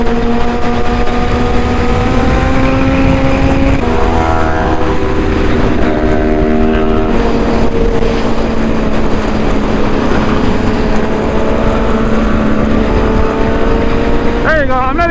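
A Suzuki GSX-R1000 motorcycle with an SC Project exhaust roars loudly and continuously from close by, engine note shifting up and down through gear changes as a group of bikes rides toward a bike night.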